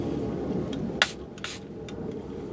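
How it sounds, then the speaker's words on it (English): Two short hissing spritzes of water from a spray bottle onto paper, close and crisp, over a low steady background hum. "spray little bit water"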